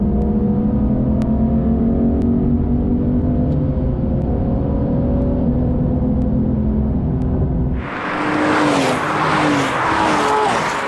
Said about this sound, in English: Let's hang onto the back of him and rev this car out